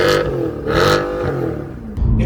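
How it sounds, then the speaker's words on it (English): The naturally aspirated engine of a 2012 Mercedes-Benz C63 AMG W204 revs loudly, with surging bursts of exhaust roar that rise and fall close by. "I rev the car out, which means I get to hear that exhaust note."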